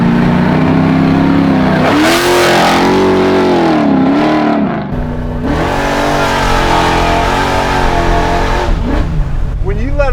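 A 632 cubic inch V8 Chevelle making about 850 hp revs hard through a custom-made exhaust with custom headers and mufflers. It is loud and close, with rising and falling pitch sweeps as the throttle is blipped, let off and whacked again, and voices speak over it.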